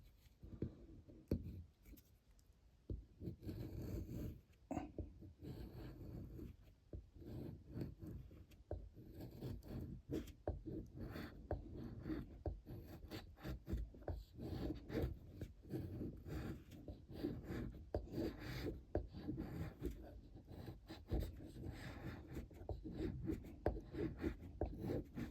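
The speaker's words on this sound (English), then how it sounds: "Cutting into that bass, no problem. Making some nice tinder there." A knife blade carves a small basswood block, producing steady close scraping and shaving sounds with irregular rubbing strokes throughout, no talking.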